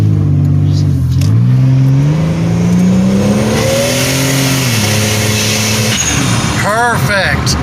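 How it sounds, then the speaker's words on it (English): A 1999 Buick Regal GS with an upgraded 58mm turbo accelerates hard from up close, its engine note climbing steadily in pitch through a pull, with a short turbo whoosh and whistle near the end. "Damn, that thing rips. Ooh, I love this turbo."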